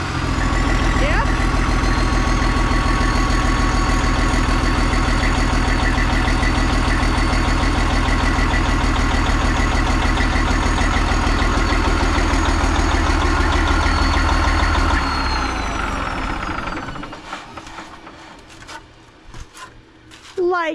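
An old vehicle's engine idles steadily with a deep, even low rumble, then cuts out and fades near the end, leaving quieter rattles and noise.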